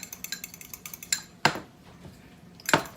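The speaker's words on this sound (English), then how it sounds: "You're going to blend it. You're going to whisk it." An egg whisked in a bowl during breakfast prep gives a run of quick light clinks and taps in a steady rhythm, then two louder sharp clacks against the bowl, close up with no talking.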